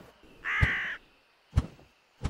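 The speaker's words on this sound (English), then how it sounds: "A bird flew in!" Cartoon crow gives one long, loud caw, with sharp short thumps and clicks following at intervals, and no voices.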